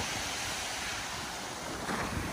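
Strong ocean waves on Oahu, Hawaii, in early April roar steadily as continuous surf wash, with gusty wind buffeting the microphone throughout.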